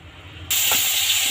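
Asafoetida dropped into hot oil gives a sudden loud, steady hiss and sizzle that cuts in after a quiet moment and holds at full strength.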